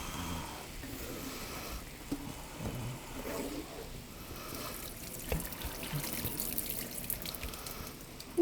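Water from a pot of boiled potatoes drains off, trickling and splashing faintly for several seconds with small clinks of the lid or pot.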